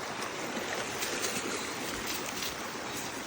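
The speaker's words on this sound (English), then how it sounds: "Oh, thanks for that splash on my legs and into my shoes." A dog splashes through water on a nature walk, making a steady, close rush of churning water with no voices.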